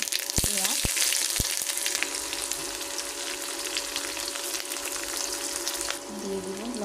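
Ginger and onion pieces fry in hot oil with whole tempering spices, a steady close sizzle that runs the whole stretch, with a few sharp spattering pops near the start.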